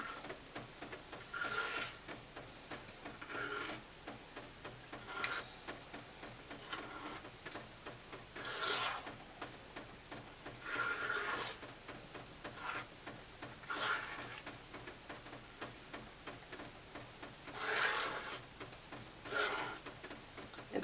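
A design scraped into a surface with a yellow layer underneath, heard as short rasping strokes repeating every second or two, moderately close and fairly quiet with gaps between them.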